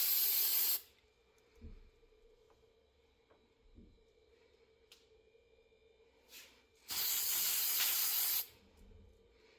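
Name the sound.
spray paint can spraying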